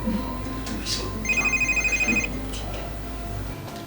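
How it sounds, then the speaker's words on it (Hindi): A home telephone rings once with a bright trilling electronic ring of about a second, set in a quiet indoor room with faint background noise and no clear talk. "घर से फोन है, रेशमा ने किया होगा"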